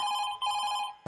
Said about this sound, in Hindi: pick up the phone